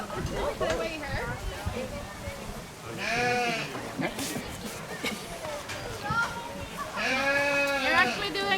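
Goats and sheep at Polar Park bleat in several loud, wavering calls close by, two standing out clearly, with people chatting around the animals.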